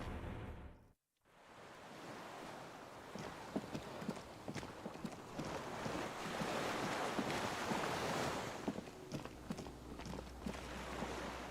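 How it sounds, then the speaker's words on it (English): Water laps and sloshes against a small skiff moored at a dock in the Disco Elysium video game, a steady close wash of waves with soft wooden knocks, after a brief silent gap near the start. "The skiff is swaying on the waves by the dock."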